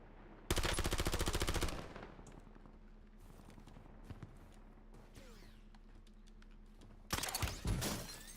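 Loud bursts of automatic gunfire in a Black Ops-style first-person shooter, a dense rapid volley at the start, quieter scattered battle noise in between, then another close burst near the end.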